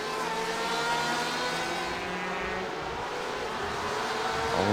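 A Porsche GTE race car in a sim-racing sportscar series at Imola's Autodromo Enzo e Dino Ferrari drones steadily at high revs, its engine note holding near and loud before climbing in pitch at the very end.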